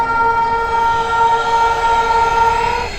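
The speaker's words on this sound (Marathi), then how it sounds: "पुन्हा ट्रेनचा हॉर्न वाजतो" A train horn on a railway track sounds one long, loud, steady blast lasting several seconds over a rough, rumbling background.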